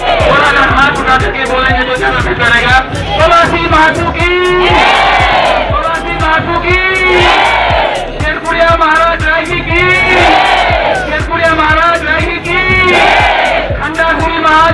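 A large crowd chants loud call-and-response devotional slogans in repeated waves of voices at a Hindu temple consecration, sustained and dense throughout.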